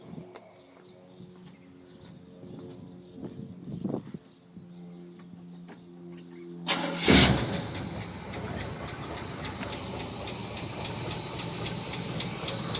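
An original car engine with original air cleaner lid and valve covers and lifter noise cranks and catches about seven seconds in with a loud burst, then settles into a steady, broad running idle close by.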